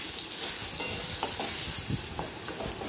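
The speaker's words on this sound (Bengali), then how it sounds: "বেগুনটাকে একটু সামান্য হলুদ দিয়ে ভেজে রেখে দেব" Brinjal pieces fry in hot oil with turmeric, giving a constant close sizzle with occasional soft stirring knocks from a spatula, no talking.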